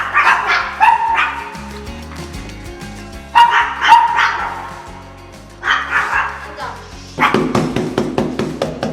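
A dog barks at a doorbell during training, giving sharp barks in several bursts that are separated by quieter stretches. A steady low musical drone runs underneath.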